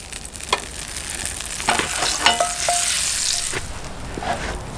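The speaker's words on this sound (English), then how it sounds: "throw a little bit of butter in the skillet" Butter sizzles in a hot carbon steel skillet set on high heat, a steady crackling hiss with a few scattered pops and light clinks, close and fairly loud.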